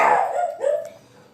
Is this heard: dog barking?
yes